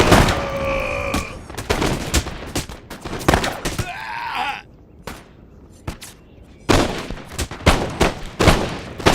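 Infantry volleys of musket gunfire in Empire: Total War crack out in loud, overlapping bursts of shots, with a brief shouted command near the start and scattered firing continuing throughout.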